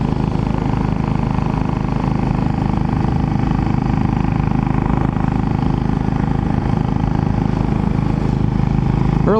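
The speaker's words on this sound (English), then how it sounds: "Putting around on my 2002 Royal Enfield Bullet 500." A 2002 Royal Enfield Bullet 500 single-cylinder motorcycle thumps along at a steady cruising pace, loud and close, with continuous engine and wind noise and no voices.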